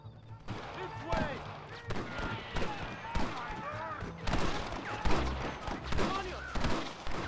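Repeated bursts of gunfire during a Red Dead Redemption shootout, crisp shots crackling near and far in irregular clusters, with someone shouting briefly between the volleys.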